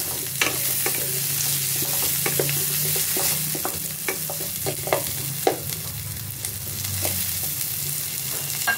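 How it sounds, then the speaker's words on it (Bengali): Potato pieces frying in hot oil and being stirred, a steady sizzle broken by scraping and clinking of a spatula against the pan. "আলু টুকরোগুলো সব দিয়ে দিলাম, দিয়ে ভালো করে নাড়াচাড়া করে নেব"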